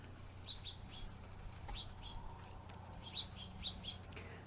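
A small bird at a backyard feeder gives faint, scattered chirps and soft flutters of wings over quiet outdoor background noise, with a few brief sharper calls.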